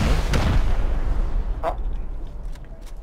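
Rocket launches and explosions in the survival video game Rust: a loud broadband blast near the start, then a sharper burst and a few fainter distant pops trailing off over a low rumble.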